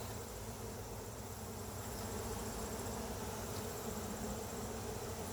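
Honeybees buzz in a thick, steady swarm drone during a hive check in August, a close, continuous hum with no voices.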